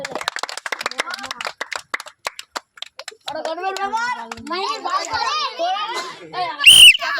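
Children clap unevenly through the first three seconds of a bottle-dropping challenge game, crisp scattered slaps at close range, before children's chatter takes over and a sharp shrill shout cuts in near the end.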